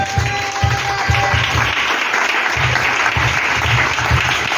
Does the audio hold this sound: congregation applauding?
yes